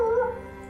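A human voice imitates a dog's whimper with a brief, high, tonal whine that slowly fades, heard alone and close.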